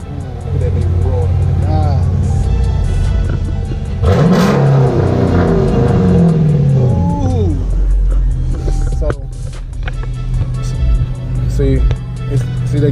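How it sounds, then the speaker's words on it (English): A car engine rumbles loudly up close, revving up with rising whine and settling back, with a person talking over parts of it. "So I'm gonna turn on my car. Look at that baby roar."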